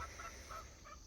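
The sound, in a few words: chickens clucking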